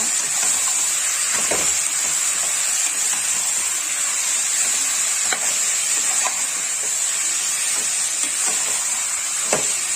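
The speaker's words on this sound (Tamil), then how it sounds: "நல்லா மட்டனை போட்டு நல்லா வதக்கிக்கோங்க." Mutton sautéing in a pan for a mutton kurma, a steady broad sizzle with occasional soft stirring scrapes, continuous and fairly loud with no talking.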